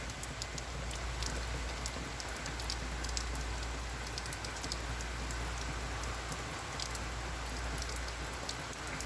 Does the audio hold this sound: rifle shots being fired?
no